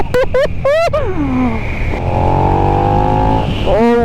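2022 KTM 1290 Super Duke R motorcycle accelerating hard through rapid gear changes, loud and close, with a rising engine whine repeatedly dropping and climbing again; a man exclaims over the engine.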